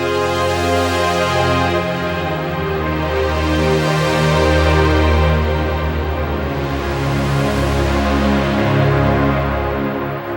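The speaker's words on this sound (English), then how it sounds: "So we get the great Super Saw sounds like this." Super Saw patch on a Roland V-Synth XT, using its JP8000 modeling section, plays loud sustained chords with thick detuned harmonics that swell and shift steadily for about ten seconds, with no talking.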